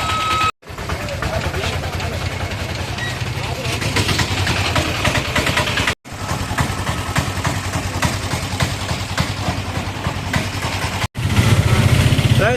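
An auto rickshaw's small engine drones and rattles continuously at close range, with a couple of brief cuts in the sound.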